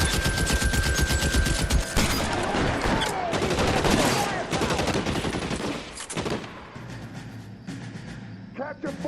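Bursts of automatic gunfire rattle loudly and almost continuously in a shootout from the crime video game L.A. Noire, with dense overlapping shots, brief gaps, and a voice shouting in between.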